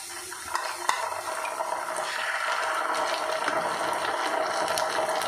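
Tomato sauce, chilli sauce, soy sauce and vinegar poured into a hot pan of gobi manchurian, giving a soft continuous sizzle and liquid hiss with a few faint clinks and stirring scrapes, building to a steady frying wash.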